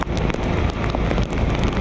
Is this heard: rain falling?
yes